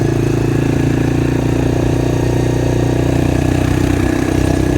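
A motorcycle cruising in fifth gear gives off a loud, steady engine drone with a constant low hum. It holds an even pitch close up throughout, with no talking.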